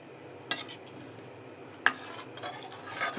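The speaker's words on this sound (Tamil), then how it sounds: "நல்லா கிண்டிக்கிட்டே இருக்கணுங்க" Black rice halwa being stirred in a pan, a quiet scraping spoon with two sharp clinks against the metal and a soft bubbling sizzle building toward the end.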